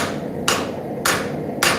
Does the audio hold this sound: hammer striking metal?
yes